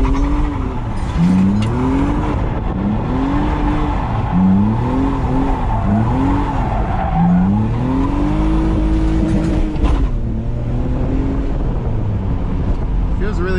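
A BMW E46 drift wagon on the move, its engine revving up and down in repeated rising and falling sweeps, loud and close from inside the car, with someone talking over it.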